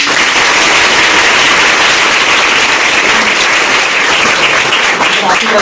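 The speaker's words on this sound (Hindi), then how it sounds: "एक बार इंजीनियर के लिए ताली बजा" Loud, dense applause from an audience clapping for an engineer at a congratulatory gathering, a steady crackling roar of many hands that continues the whole time.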